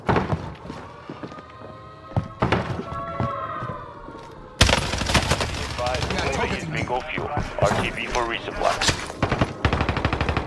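Automatic gunfire from a Warzone-style battle royale match rattles in rapid bursts over game ambience, growing dense and continuous in the second half, with a voice speaking in the background.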